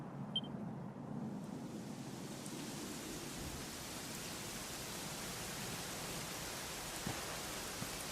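Steady rain in the video game Dragon Quest XI hisses evenly throughout, a soft continuous wash with no voices.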